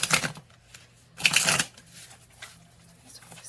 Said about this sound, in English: And then I will cut this deck and clarify this Queen of Swords.